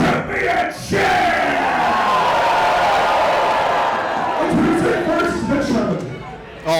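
A hot crowd at a live wrestling event roars and cheers loudly and continuously, packed with yells and whoops, as a Superkick'd championship match is announced.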